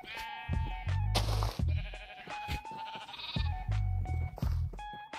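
Several sheep bleats from Minecraft farm animals, layered and overlapping over a steady game background with recurring low thumps, fairly loud and close throughout.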